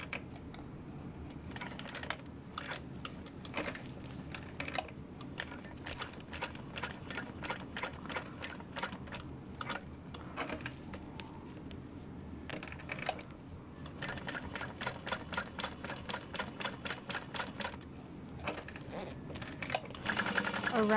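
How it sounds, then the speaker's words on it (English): A sewing machine stitches across the bottom of a pocket on a clutch wallet, running in a steady rapid whir with brief pauses and restarts, close and fairly quiet. "we're going to finish off that pocket by sewing across the bottom here"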